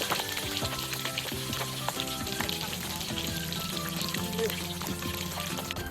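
Dense, steady sizzling and crackling of fish frying in hot oil, close and continuous, with small pops scattered throughout.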